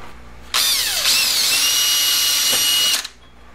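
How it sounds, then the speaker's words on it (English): Power drill whining at high speed as it bores a hole through cardboard, one loud close burst of about two and a half seconds with a slight pitch shift, and no one speaking. "drill a hole right in here on the cardboard at 20 millimeter increments"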